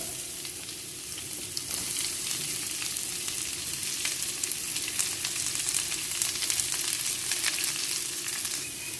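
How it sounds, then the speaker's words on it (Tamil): Ridge gourd peel sautéing in hot oil in a pan, a steady, close sizzle with occasional stirring clicks and crackles continuing evenly throughout, no voices. "இந்த தோலை நல்லா நம்ம வதக்கி எடுத்துக்கணும். இந்த எண்ணெயிலே நல்லா வதங்கணும்."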